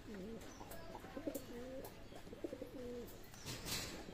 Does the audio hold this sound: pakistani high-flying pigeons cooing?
yes